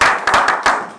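A church congregation bursts into applause: dense, close, fast clapping that pulses in a few quick swells over about one second, with no voices.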